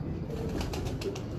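A pigeon coos in a fancier's loft in Sialkot, soft low throaty murmurs over a constant background rustle, close by and moderately loud, with no one speaking.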